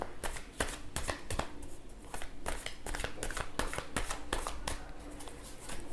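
Tarot cards being shuffled by hand, a continuous close run of riffling, flapping card sounds with rhythmic slaps and brief pauses, crisp and steady throughout.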